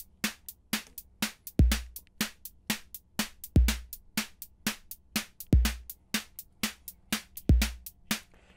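Sequenced drum pattern with a steady four-on-the-floor snare on every beat and a deep bass drum landing once per bar on the fourth sixteenth of beat four, crisp, loud and repeating alone with no talk.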